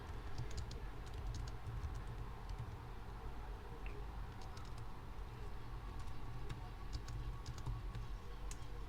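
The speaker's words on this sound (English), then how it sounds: "I don't know why I'm typing it out again" A computer keyboard clatters as code is typed, with soft irregular key taps running steadily under a constant hum and background noise, fairly faint throughout.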